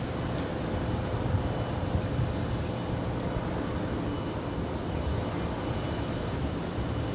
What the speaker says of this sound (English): Qatar Airways A350 1000 now about to touch down there on the north side and 24 right